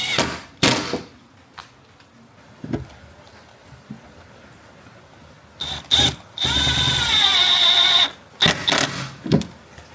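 A power drill drives screws through a carbon fiber rear diffuser on a car, with a few short clunks and handling knocks, then a sustained, loud, rising whir of the drill that stops abruptly, followed by more knocks.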